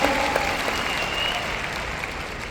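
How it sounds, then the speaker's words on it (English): A convention crowd applauds steadily, a dense wash of clapping hands that holds at an even level throughout. "Let's give them a big, nice round of applause."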